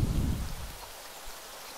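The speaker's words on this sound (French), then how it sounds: "Il pleut. Et vous voyez les gouttes qui rebondissent joliment sur le toit." Rain falls on a house roof in the video game Craft the World, a soft hissing patter with a low rumbling swell at the start that fades to a steady, even shower.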